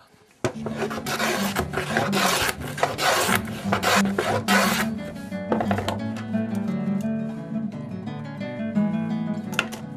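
A rasp or file shapes wooden guitar strips in a guitar maker's workshop, making steady rhythmic scraping strokes that are close and loud, then easing into lighter rubbing as the wood rings faintly, with no talking.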